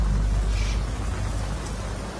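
Heavy rain falling in a dense, continuous broadband hiss with a deep rumbling undertone, steady and fairly loud throughout.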